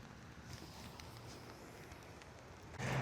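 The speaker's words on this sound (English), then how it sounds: "it's raining so hard" Heavy rain pours outdoors on a rainy Halloween metal-detecting outing, a steady, dense hiss that fills the whole stretch and swells louder at the very end.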